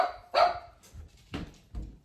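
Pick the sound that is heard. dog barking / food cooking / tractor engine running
dog barking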